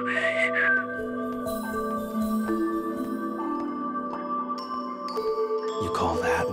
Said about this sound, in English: You call that whistling?